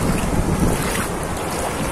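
A homemade wind-powered boat sails along under steady, loud wind rushing across the microphone, with a constant broadband roar and gust buffeting throughout.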